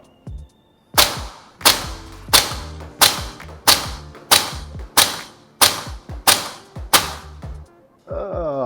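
A Maruyama ISO556 (B&T APC556) airsoft rifle fires ten sharp, evenly spaced shots on an outdoor range, each a loud crack with a short decay, close to the listener.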